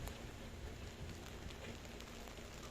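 Heavy rain falls over a garage roofing site, a dense, even hiss of drops that stays steady and fairly quiet throughout with no voices.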